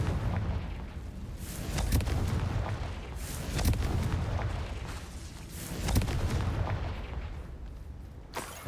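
Repeated heavy booms and crackling blasts from the Confringo explosive spell in a Harry Potter style video game, several loud bursts rolling into one another over a dense rumbling roar with no talking.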